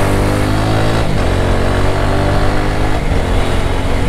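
Motorcycle engine droning loud and close while weaving through traffic, a steady mid-pitched hum with rising and falling revs and heavy wind rush.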